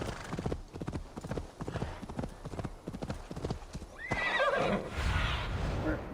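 Rhythmic hoofbeats of a galloping horse clatter steadily in the video game Assassin's Creed Valhalla, then the horse lets out a loud whinny near the end.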